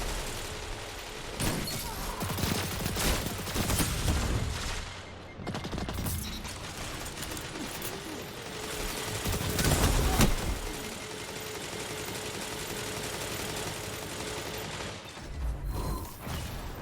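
A Truth Teller weapon fires in a shooter game amid a dense, loud wash of gunfire bursts and mechanical clatter, with sharp shots standing out over continuous battle noise.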